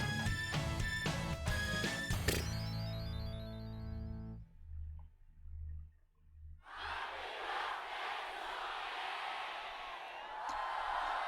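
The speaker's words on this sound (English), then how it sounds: "they got the entire crowd to say, "Happy birthday, Sonic!"" A convention crowd in Britain shouting happy birthday to Sonic, heard as a distant, roaring mass of voices rising after a loud musical passage and a brief lull, sustained cheering for several seconds.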